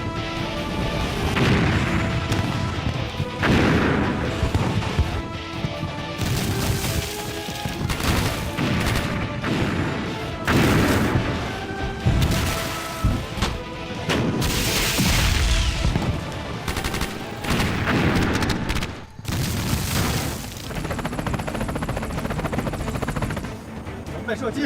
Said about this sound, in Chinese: 让炮团一营集中火力轰击蓝军